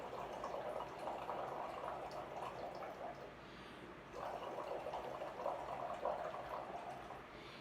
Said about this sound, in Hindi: और इसको इस प्रकार पानी में डाल दें और फूंक मारे जोर से पानी के अंदर